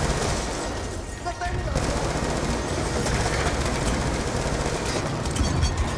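Rapid gun turret fire in Call of Duty: Black Ops 2 rattles continuously in a dense, loud stream, layered with battle noise for the whole stretch.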